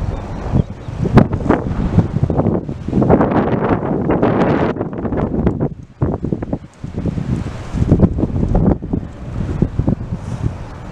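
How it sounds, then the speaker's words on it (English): Strong wind blows outdoors outside a house in a residential neighborhood. Loud, rough gusts buffet the microphone, with a brief lull partway through. "It's kind of windy, so I'm going to speak louder here."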